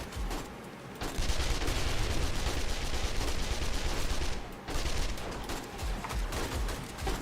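SMG fire in the video game 7 Days to Die crackles in loud, continuous rapid bursts, broken by a brief pause partway through before the shooting resumes.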